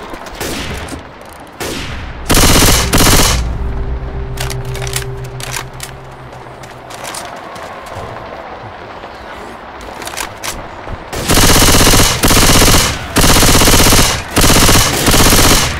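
Gunfire rattles in the video game Left 4 Dead 2: a loud automatic burst early on, scattered single shots through a quieter stretch, then long, heavy rapid-fire volleys to the end.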